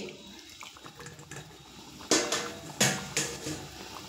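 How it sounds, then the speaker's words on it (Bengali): Water is poured into a cooking pot for kofta curry, heard as a few short splashing bursts after a quiet start, close by, with faint kitchen background noise. "এখানে আমি জলটা একটু বেশি ব্যবহার করব, কেননা কোপ্তাতে কিন্তু অনেকটাই জল টেনে নেবে।"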